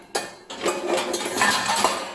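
Small vessels and dishes clink and clatter as they are unloaded from a Bosch dishwasher after six years of use, a run of close, sharp metallic knocks over a couple of seconds.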